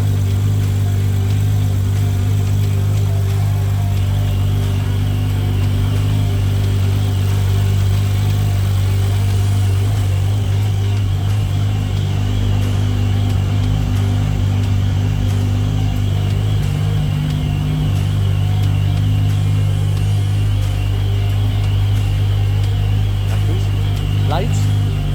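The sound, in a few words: track car engine revving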